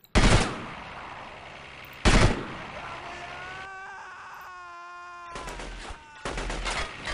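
Gunfire in the video game Delta Force 2, loud rapid bursts of automatic fire that start and stop, with quieter gaps between them and no talk over the shots.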